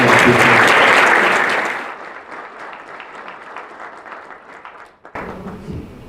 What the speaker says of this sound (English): So if you would please give the folks from the foundation a round of applause